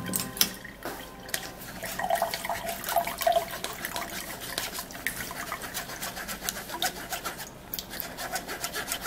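Orange juice being strained through a sieve, with a steady wet trickle and splashing of liquid running on throughout, fairly close and moderately loud.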